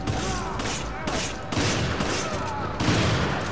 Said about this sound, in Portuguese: Quem que tá atirando aqui?